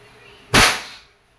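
A single sharp shot from a Crosman 2240 bolt-action CO2 airgun fired at a tin can, one loud crack with a short decaying tail, standing alone against quiet background.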